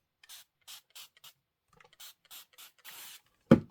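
A spray can fires a single short, strong burst onto a quilt near the end, after a run of quiet rubbing and scratching sounds at close range.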